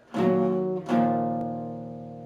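Acoustic guitar chords from a riff, strummed twice close up, each strum bright and full, the second left ringing out and slowly decaying.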